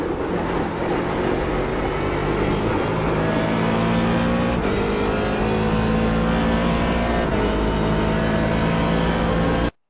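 A DP C7 Daytona Prototype race car lapping the bumpy Sebring circuit, its engine droning loud and steady from onboard with rising and falling pitch through gear changes and throttle shifts, then cutting off abruptly.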